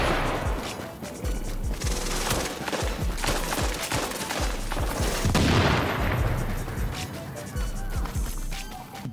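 Rapid, sustained MP7 gunfire in The Division's Dark Zone, rhythmic loud shots layered with booms and crashes, continuous throughout.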